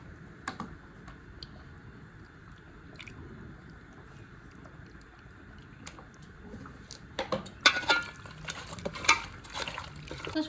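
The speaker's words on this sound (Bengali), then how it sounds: "কাঁচা সর্ষের তেল মাখিয়ে নেব।" Hands rub raw mustard oil into washed raw chicken, quiet at first, then wet squelching and slapping grow louder and busier over the last few seconds.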